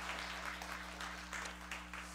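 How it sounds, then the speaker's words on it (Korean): Congregation at a Korean church afternoon worship service applauding together, a steady soft patter of many hands over a constant low hum, somewhat distant and faint. "먼저 우리 박수로 한번 격려해 주시기 바랍니다"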